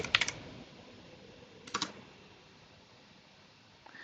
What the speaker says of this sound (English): We type the command npm run deploy.